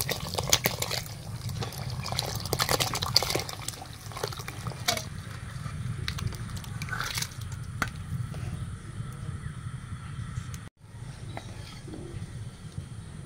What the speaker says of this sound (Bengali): জল ফুটে গেছে, এখন চালটা ঢেলে দিচ্ছি আমি